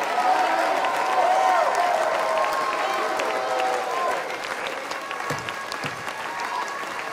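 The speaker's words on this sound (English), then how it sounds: "put those anointed hands together. Clap your hands, all ye people. Shout unto God." A church congregation claps and shouts at a healing service, loud sustained applause mixed with cheering voices and sung or shouted tones, thinning out toward the end.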